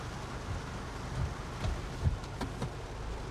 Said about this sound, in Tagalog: kaya lang ito, lakas ng ulan